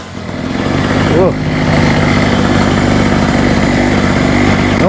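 A Hurricane 850W 240V generator under repair runs steadily at normal RPM, a loud continuous buzzing engine drone with a brief dip around one second and a slightly jittery, uneven tone.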